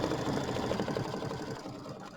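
Embroidery sewing machine stitching satin stitches on a quilt, a steady rapid mechanical whir with fast rhythmic needle taps, close and continuous.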